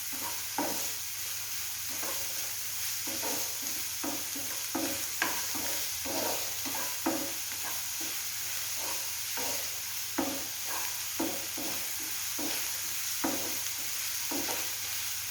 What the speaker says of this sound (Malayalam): സവാളയും കൂടി നമുക്ക് ഇതിനൊന്ന് ഇളക്കിയെടുക്കാം